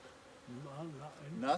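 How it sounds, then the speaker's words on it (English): Several bees buzz around a hive, a steady droning hum that rises and swells as insects fly close near the end, with no voices. "There's a few bees flying around."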